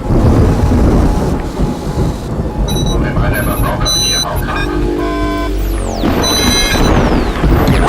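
Thunder and rain in a lightning storm over the Cape Byron area, a loud rolling rumble over steady rain, mixed with crackling static and electronic radio interference tones.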